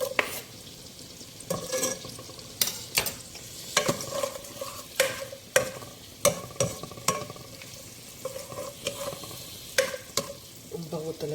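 Garlic sizzling in a generous amount of melted butter in a pan while cooking chicken sopas. A soft continuous sizzle runs under repeated sharp clacks of a utensil stirring and scraping the pan.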